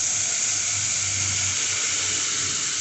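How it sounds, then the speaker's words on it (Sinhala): About two cups of water pouring into a cooking pot for a fish curry, a constant close rushing splash with no pauses or voices. "වතුර ටිකක් දාලා වතුර කෝප්ප 2ක් විතර වෙන්න මම දානවා"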